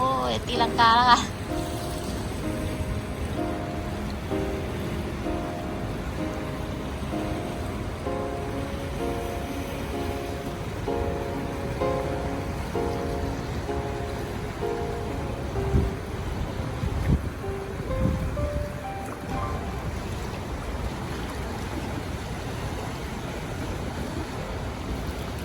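Waves and surf roll across open water on a cold, very windy day where people paddle boats through the chop, with steady wind buffeting the microphone and someone talking over it.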